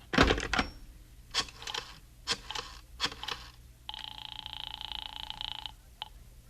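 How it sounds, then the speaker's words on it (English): An old rotary telephone handled in a living room: sharp clicks and clatter as the handset is lifted, then a steady ringing buzz from the line, close and fairly quiet with no voices. "I went into the living room and picked up the phone"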